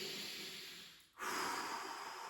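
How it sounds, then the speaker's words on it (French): One deep breath drawn in through the nose during a self-massage stretch with a ball pressed against the neck muscles. The inhale is soft and close, briefly pauses, then resumes as a steady airy draw, with no voices. "Première étape, grande respiration."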